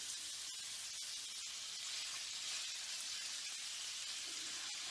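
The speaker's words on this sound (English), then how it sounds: "Over low flame, I can start cooking the minced meat of the turkey" Minced turkey sausage meat fries in a little oil in a pan over low flame, a steady, close sizzling hiss that continues without a break.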